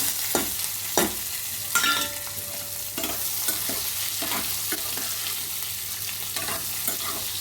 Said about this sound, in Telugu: ఉల్లిపాయలు కూడా వేసేసుకున్నాం, వేయించుకున్నాం